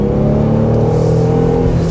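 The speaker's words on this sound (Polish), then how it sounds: "Słyszycie ten silnik?" A Jeep Gladiator engine revs steadily with a sustained, droning hum from inside the truck, loud and close, with no talking.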